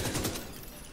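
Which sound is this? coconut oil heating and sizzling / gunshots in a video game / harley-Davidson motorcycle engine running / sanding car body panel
gunshots in a video game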